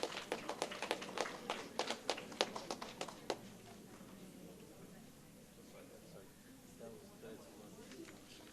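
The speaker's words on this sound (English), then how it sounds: "Give all of them a round of applause" Applause at a primary schools spelling bee in St. Lucia, a quick burst of claps in the first few seconds that trails off into a quieter room murmur.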